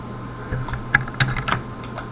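C code being typed on a computer keyboard: a brief burst of quick, close keystrokes with uneven clicks and taps, and no talking.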